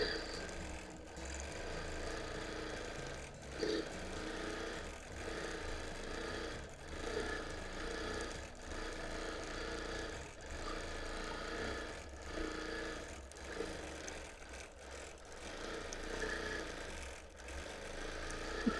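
A quilting machine runs steadily while stitching a plume pattern across a friendship quilt, a low mechanical whir with a rapid repeating needle rhythm and occasional small knocks, held at a quiet, even level.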